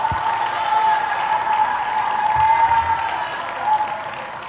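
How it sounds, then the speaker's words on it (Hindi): Audience applause at a poetry recital, a steady burst of clapping with crowd noise that swells slightly near the middle and continues throughout. "वाह वाह, तालियां भरपूर बजा दें।"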